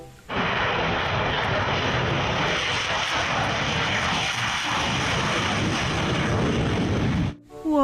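A steady roaring fighter-jet engine effect from a toy jet, loud and continuous for several seconds before cutting off abruptly, with no talk over it.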